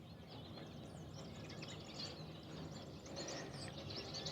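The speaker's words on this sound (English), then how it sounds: "if the recorder is picking up all the bird sounds, that it's spring here in Alabama." Spring birds outdoors in Alabama, late morning, several faint chirps and short tweets scattered at a distance over a soft ambient hiss, with no talk.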